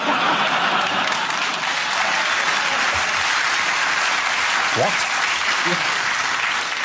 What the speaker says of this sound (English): I love the way that they clapped at different times